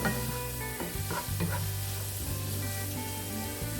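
Onions sizzle steadily as they fry in a pan for a Madras tamarind fish dish, a close, even crackle with faint stirring movement and no voices.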